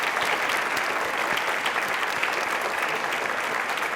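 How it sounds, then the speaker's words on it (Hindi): A crowd at a televised Rajasthan public forum claps steadily, a dense continuous wash of applause holding even volume for about four seconds without speech. "एक बार तालियां जोर से बजा दीजिए इसके लिए"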